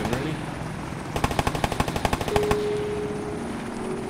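Automatic weapon fire from an Arma 3 Wasteland firefight, a rapid burst of about a dozen sharp shots in quick rhythm, loud and close, with a steady electronic tone underneath.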